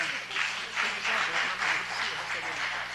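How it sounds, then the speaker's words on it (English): Audience applause at a city council and housing authority meeting, a steady wash of many hands clapping that swells and dips in waves for the whole stretch, fairly close and full. "One more round of applause"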